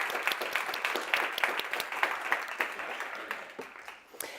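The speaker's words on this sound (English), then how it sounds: "please join me in applauding the two of you for your presentations" An audience at a Brussels conference applauds after two presentations, a moderate round of individual claps that thins out toward the end, heard from mid-distance in a hall.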